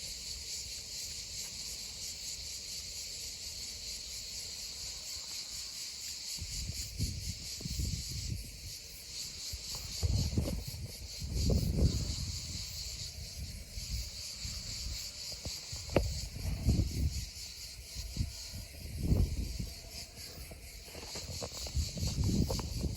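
Cicadas buzz in a steady, loud, high-pitched drone throughout a summer outdoor scene beside a Kawasaki ZX10 motorcycle, with intermittent nearby rustling and low thumps from about halfway on.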